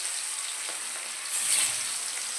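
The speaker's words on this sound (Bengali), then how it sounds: "মাছটা এখন আমি হালকা ফ্রাই করব" Fish fries lightly in hot oil in a wok with a steady, soft hiss and crackle, and a brief louder sizzling swell midway through the short stretch, with no voices over it.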